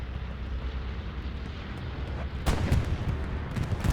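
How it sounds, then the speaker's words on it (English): Explosions from an allied bombing run in the World War II shooter Hell Let Loose during a 49-versus-49 competitive match, a steady rumbling barrage that swells louder and denser halfway through with heavy booming impacts. "This is an allied bombing run, I believe."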